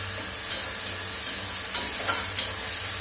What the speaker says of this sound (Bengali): এই যে টমেটোটা ভাজা ভাজা কাঁচা কাঁচা ছিল, এটাকে ভাজা ভাজা বেশ দিয়ে দেবো